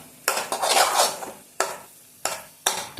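A utensil scraping and stirring egg rice ingredients in a pan, loud and close, with one long rattling stir followed by three separate scraping strokes.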